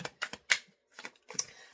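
A deck of tarot cards shuffled by hand up close: crisp, papery slaps and clicks in short irregular clusters, with brief pauses between bursts and no voice.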